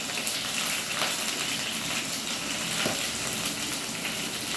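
Sesame seeds sizzle in hot oil with curry leaves during tempering, a dense, steady crackling hiss that continues loudly and evenly with no voices.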